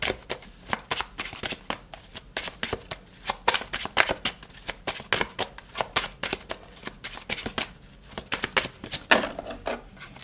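Tarot cards shuffled by hand, a rapid run of crisp riffling slaps and flutters repeated in quick bursts, close and clear with no talk over them.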